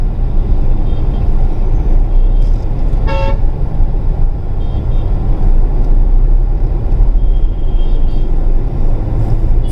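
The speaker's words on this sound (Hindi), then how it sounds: "ट्रैफिक हिसार में बहुत बढ़ गया है" Road traffic in Hisar city, a continuous loud wash of passing vehicles with a single short horn toot near the start.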